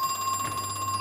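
A telephone rings in the horror video game Crow Country, a steady electronic trill that pulses evenly throughout at moderate loudness, with no voices over it.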